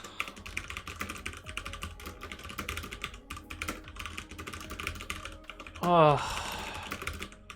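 Rapid, steady typing on a mechanical keyboard with clear switches patters close up, dense clacks throughout, interrupted near the end by a brief spoken exclamation.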